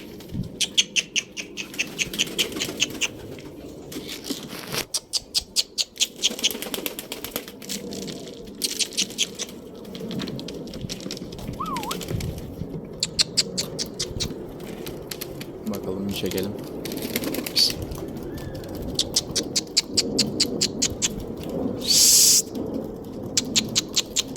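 Birds fly around inside a backyard coop, their wings beating in repeated rapid flurries of flapping, with occasional chirps and rustling between the bursts.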